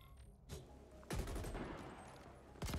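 A newly picked-up weapon in The Ascent fires in single shots, one sharp boom near the start and a second near the end, both loud and close over a dense game background.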